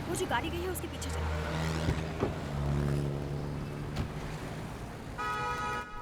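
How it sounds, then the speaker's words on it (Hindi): Traffic noise from a taxi following another car: a steady engine hum with passing vehicles, revving and a horn toot near the end, under speech. "टैक्सी, वो जो गाड़ी गई है उसके पीछे चलो।"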